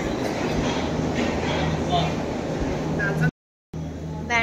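Train rumble and rail noise at a station on the Mumbai to Surat route, a steady loud roar under chatter, then a brief dropout before the noise returns.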